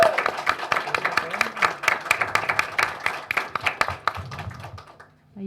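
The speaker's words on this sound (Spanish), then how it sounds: "Un aplauso, por favor, a Constanza" An audience at a university undergraduate literature colloquium applauds a presenter, with a burst of many hands clapping in quick, dense rhythm that thins and fades toward the end.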